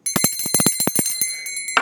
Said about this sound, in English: Ring my bell. That worked.